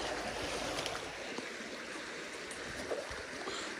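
A creek flows steadily near the Flynn Lick impact crater site in Gainesboro, Tennessee, a continuous soft rushing and trickling of water at moderate distance with no voices.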